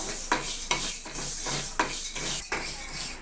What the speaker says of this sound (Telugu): ఇలా మెంతులు అయితే కొంచెం దూరగా వచ్చే వరకు వేయించుకోవాలి